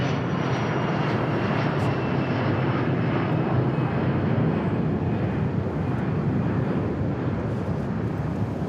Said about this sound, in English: You check out this Cessna